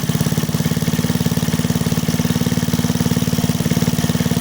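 A Kirsch petrol generator idles up close, its small engine chugging in a steady, rapid, loud rhythm throughout with no talking.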